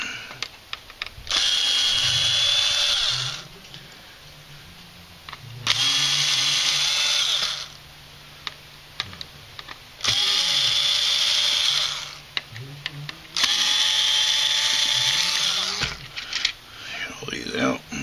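A power drill fitted with a 1/8 bit backs screws out of a Pontiac car radio faceplate, giving four separate bursts of high whirring, each lasting a couple of seconds, with small clicks and handling sounds between them.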